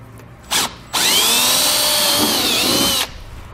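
A power drill fitted with a small bit bores out plastic rivets where the bumper meets the fender liner on a 2018 Jeep, whirring in a brief burst and then a steady loud two-second run before stopping.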